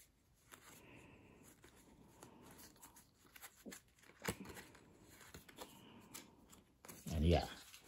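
Ruffle shuffle of a 17th Kingdom Avant Garde playing card deck, quiet papery riffling and handling throughout, ending in a louder close burst of cards cascading together, with brief speech around it.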